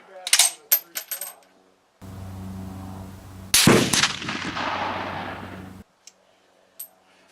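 Rifle shots firing GP11 ammunition at a steel post 200 yards away, heard as sharp reports with ringing impacts and long decaying echoes, followed by quiet.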